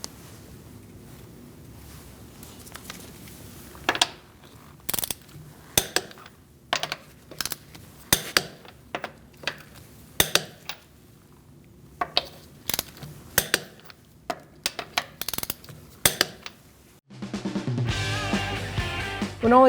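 A torque wrench tightens the lug nuts on a front wheel of a 2008-2014 Mercedes-Benz C300. Sharp metallic clicks ring out in irregular bursts across a quiet garage, followed at the end by a brief, louder mechanical rattle.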